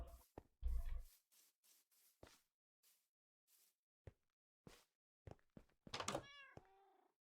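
Minecraft cats on a game server give scattered soft clicks and thumps, then one clear, drawn-out meow near the end.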